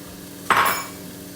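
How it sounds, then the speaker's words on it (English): Frozen onions drop into a hot pan and burst into a loud hiss of frying, a sharp sizzle that flares then slowly settles. "just frying off those onions"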